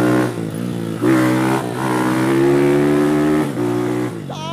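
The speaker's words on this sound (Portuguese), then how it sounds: "o motor tá forte pra arrebentar" A Honda Titan 160 motorcycle engine with fuel injection revs hard and close, rising and falling in several loud bursts with a harsh, throaty tone.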